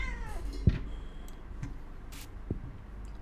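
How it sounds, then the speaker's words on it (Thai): A cat meows briefly in the background near the start, a short drawn-out call followed by scattered faint clicks and taps in a quiet room. "เสียงแมวรบกวนนิดหน่อยนะผมโทษที"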